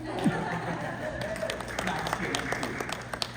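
Scattered applause from the audience at a school board meeting, light uneven clapping that gradually thickens, with murmuring voices underneath.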